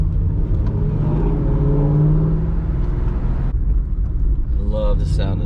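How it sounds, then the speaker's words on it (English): A Ford Mustang GT's engine rumbles steadily at close range, its low growl rising briefly as if revving, then easing after a few seconds; a voice speaks near the end. "I love the sound this car makes."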